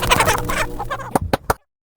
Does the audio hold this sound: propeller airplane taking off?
no